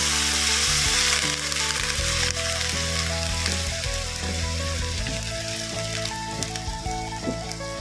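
Water is poured into a pan of sizzling spicy stir-fried catfish with pickled bamboo shoots. A loud hiss at the start settles into a steady bubbling sizzle, with faint background music and no talking.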